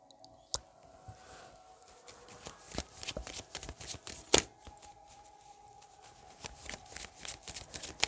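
Tarot cards shuffled by hand, a run of soft papery riffles and sharp flicks at an uneven pace, close and fairly quiet, with no talking.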